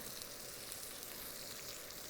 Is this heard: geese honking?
no